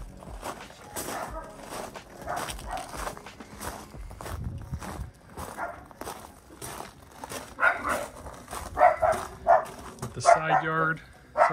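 A dog barks in a home during a house tour, short sharp barks and whimpers coming in bursts, louder toward the end, mixed with footsteps and people talking.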